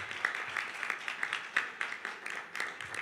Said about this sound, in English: I want a big hand of applause for the two directors of the technical committee, Olivier Poussier and Sonia Tazaki.